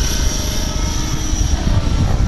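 A radio-controlled F-16 model jet roars loudly and continuously as it makes an inverted pass, its steady engine rush close and unbroken throughout.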